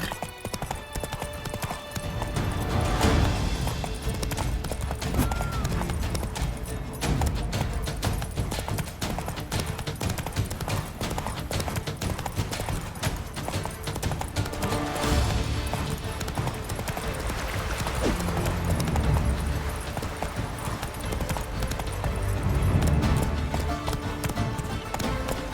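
Roach the horse gallops in a race in The Witcher 3, a fast, continuous drumming of hooves close by over a dense background of game sound, with no break.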